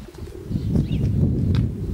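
Low, soft cooing of racing pigeons murmurs continuously as they arrive home after a young-bird race, with a light flutter of wings and faint chirps.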